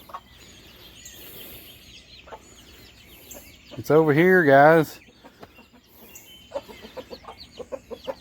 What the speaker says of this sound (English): she'll find something and then she'll squawk to them, tell them to come over